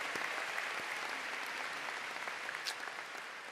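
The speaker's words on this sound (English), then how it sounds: "Give them another round of applause." Sustained crowd applause fills a large commencement ceremony for the East Syracuse Minoa graduating class of 2025, a dense, steady wash of many hands clapping at once without pause.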